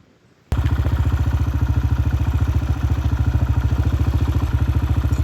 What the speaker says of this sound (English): I got on my dirt bike and went down the road a little bit